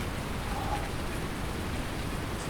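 Steady mixed rain and snow falls as a dense, even hiss in Farming Simulator 19, uniform and unbroken throughout with no talking.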